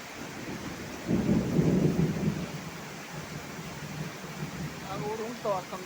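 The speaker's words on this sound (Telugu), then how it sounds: "ఉరుస్తుంది కూడా." Rumbling thunder rolls through steady rain for a couple of seconds, loud and low, then eases back into the rain's hiss; voices speak in the background.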